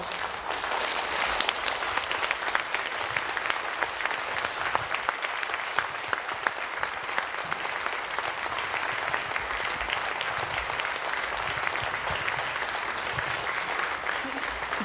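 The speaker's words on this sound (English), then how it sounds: "I think the round of applause will be a way for adopting" A steady, dense round of applause from a large conference audience, continuous and even in loudness from start to finish.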